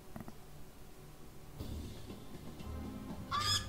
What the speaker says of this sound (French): Un drôle d'oiseau, lui, hein. Mighty vermilion bird.